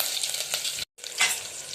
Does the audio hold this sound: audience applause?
no